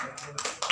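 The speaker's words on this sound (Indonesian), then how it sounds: "Tepuk tangan dong." Audience applause at a launch event for the Indonesian drama series Tersanjung, in short bursts of clapping with chatter and voices mixed in.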